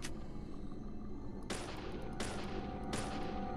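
Gunshots ring out while an enemy is shot in the video game Deadly Premonition. There are three loud, sharp reports about 0.7 seconds apart, and each one leaves a short ringing tail over a steady background of game ambience.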